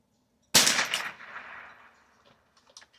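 A single sharp shot from a Smith & Wesson 15-22 .22 LR AR-15 style rifle at a range, a loud crack with a short decaying tail, then near quiet with faint clicks.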